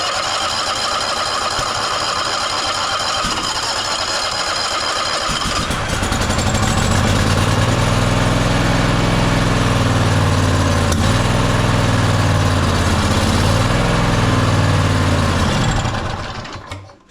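Toro TimeCutter zero-turn mower engine sputtering to life on carb cleaner, then running loud and fairly steady for about ten seconds before fading out as it dies, with no talk over it.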